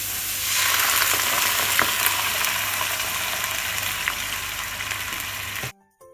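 A little water poured into a hot wok of stir-fried carrots sets off a loud, bright sizzle that swells up fast, holds as a dense crackling hiss, then stops suddenly.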